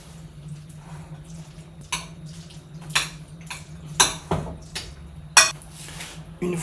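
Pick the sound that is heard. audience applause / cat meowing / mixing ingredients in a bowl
mixing ingredients in a bowl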